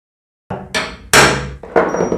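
A hammer strikes a punch to mark a drilling spot on iron, four sharp metallic blows in an irregular rhythm, each ringing briefly, close and loud.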